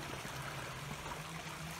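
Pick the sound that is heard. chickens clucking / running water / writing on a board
running water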